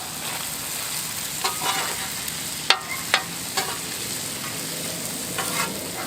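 Onions and smashburgers frying in butter on a hot surface, a steady close sizzle broken by a few sharp spatula scrapes and taps.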